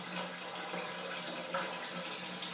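Water is poured into a container while making fabric whitener bleach, a steady close hiss of running liquid lasting the whole few seconds without any speech.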